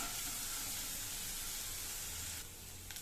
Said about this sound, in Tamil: வெங்காயம் நல்லா பச்சை வாசனை போகிற அளவுக்கு நல்லா வதக்கிக்கணுங்க.